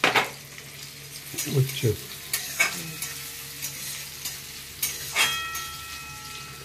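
Onion sizzles in a frying pan with intermittent scraping stirs and clacks of a spatula, close by, while a brief spoken word cuts in.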